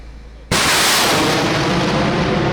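Artillery fire on terrorist bases strikes with a sudden loud blast, then a sustained roaring rumble that fills the space and does not fade.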